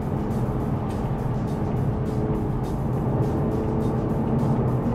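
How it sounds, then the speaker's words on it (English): A Toyota GR Supra with an inline-six engine runs steadily, heard as a continuous low, dense engine drone and road rumble at a constant level, with no voices. "I hope you can hear that engine noise. They sound fantastic. There's just something about inline six engines."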